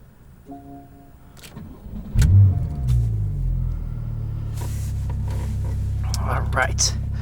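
A 2014 Porsche 911 Turbo S with a 3.8-liter twin-turbo flat-six starts up, the starter catch swelling into a loud, low rumbling idle heard from inside the cabin, with a soft voice briefly over it.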